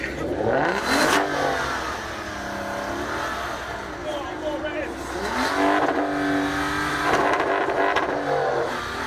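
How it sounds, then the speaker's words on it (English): A Ferrari V12 engine revs hard and loud at an outdoor supercar parade, its pitch sweeping up and down in several surges, with a raw, roaring exhaust tone reaching about 108 decibels. "let's hear some V12 noise and see what decibels we can get."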